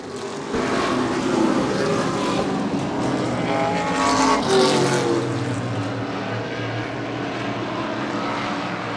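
Race cars, among them a Ford Pinto and a Chevy Vega, roar past on an oval track in a close battle, a loud sustained engine drone that swells at midpoint and then holds steady.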